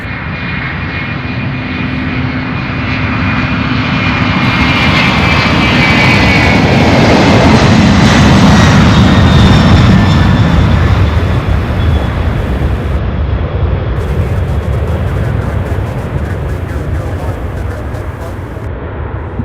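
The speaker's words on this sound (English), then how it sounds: "So this A300 heading to Burbank, California, UPS 2914." A 21-year-old UPS Airbus A300 cargo jet bound for Burbank takes off from Louisville, its loud, sustained engine roar swelling to a peak midway and then slowly easing as it climbs away.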